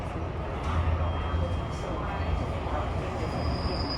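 A MARTA Green line subway train running eastbound between Bankhead and King Memorial rumbles steadily with a deep low roar and faint wheel whine, heard from inside the car, with voices in the background.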